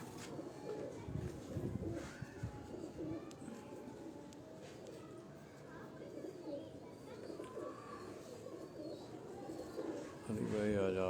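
A loft of breeding pigeons coos in low, rolling murmurs under steady male conversation, with a brief rustle of wings near the end.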